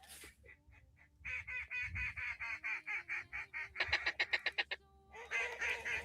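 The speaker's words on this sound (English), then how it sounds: "There's one more duck somewhere." Waterfowl honking and quacking at a pond, a long run of loud, rapid repeated calls in bursts, close by, with a faster clattering series near the end and no talk over it.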